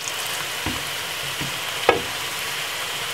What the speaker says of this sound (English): Jamaican fried plantain.